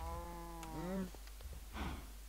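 Cows moo in the video game Minecraft, two drawn-out synthetic lows in quick succession followed by a shorter third, moderately quiet over a steady low hum.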